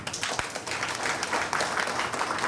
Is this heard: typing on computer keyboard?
no